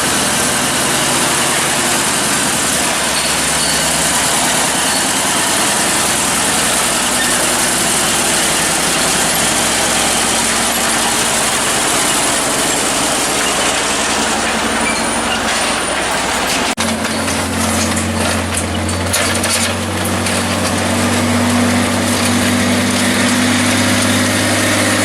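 1,500-horsepower tank engine cranking over and settling into a heavy, loud idle, a dense continuous roar with a deep throbbing rumble that steadies partway through, close and alone.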